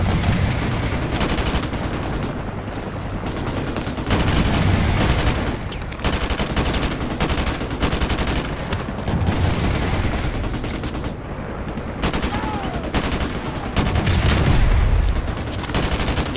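Sustained automatic gunfire from a Call of Duty 4 Remastered firefight, dense rapid bursts of shots with booming impacts running almost continuously, loud and close with only brief lulls.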